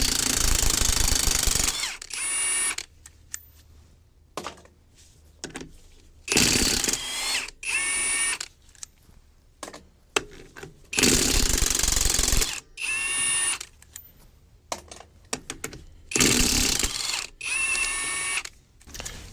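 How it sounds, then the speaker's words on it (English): An impact wrench run in reverse to remove two-piece lug nuts during wheel maintenance, firing in loud, harsh rattling bursts of a second or two each, separated by short quiet gaps, about seven bursts in all. "We'll pick up the impact wrench that fell on the ground. Yep. Put it on reverse mode"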